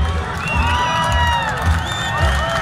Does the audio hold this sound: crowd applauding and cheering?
yes